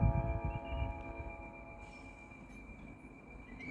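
The Tatran express train pulls in at Liptovský Mikuláš station, Slovakia, with a steady metallic wheel squeal and low rumble, loud and close.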